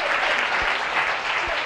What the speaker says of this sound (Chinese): 我们先热烈鼓掌